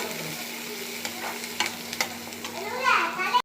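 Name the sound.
onions and curry leaves sautéing in oil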